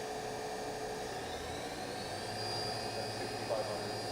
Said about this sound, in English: Spindle is nice and quiet.